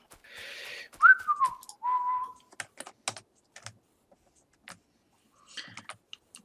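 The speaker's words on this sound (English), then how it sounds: "When the whistling comes out" Someone whistles a short, wavering phrase up close while playing Factorio at a computer, followed by scattered clicks of keyboard typing in an otherwise quiet room.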